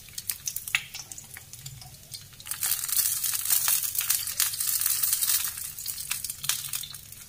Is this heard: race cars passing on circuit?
no